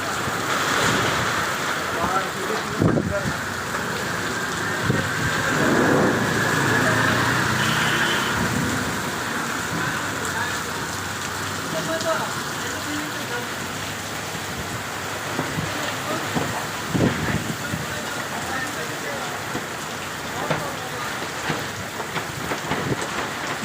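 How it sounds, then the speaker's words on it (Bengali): A strong storm wind roars through a shop, tossing its goods about: a loud, continuous rushing roar with surging gusts and scattered clattering knocks, lasting throughout. "দোকানের মাল সবগুলা বাতাসে উলট পালট করে ফেলতেছে দেখুন"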